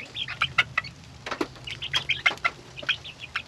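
Young chicks at a homemade chicken feeder give rapid, overlapping high chirps and clucks in close, irregular bursts over a quiet background.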